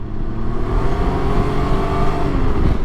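Can-Am Ryker 900 three-wheeler accelerating hard, a loud, close engine roar that stays steady and powerful throughout with no talking over it.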